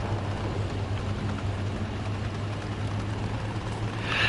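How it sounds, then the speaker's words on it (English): American tank engine in War Thunder, a low steady rumble droning continuously at moderate distance with a faint hiss over it and no talk. "why do I hear an American tank?"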